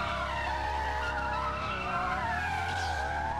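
Race car tires skidding and squealing as an AI driver circles a track in the rally game Bloody Rally Show, a steady engine drone with sliding tire whine running throughout at close range, no talk.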